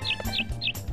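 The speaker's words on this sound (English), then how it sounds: "Move it, bird!" Birds chirping in the farming video game Harvest Moon 64: three quick, bright tweets in a short run, clear and fairly quiet against soft game background sounds.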